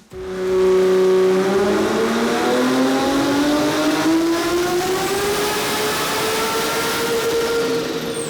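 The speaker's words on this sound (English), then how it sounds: "the Barra-powered Falcon from dyno-mite Performance to hook back up to the hubs for their final pull" A Barra six-cylinder Ford Falcon making its final dyno pull at Summernats, the engine screaming loudly as revs climb steadily over about eight seconds, close and sustained, with no talk.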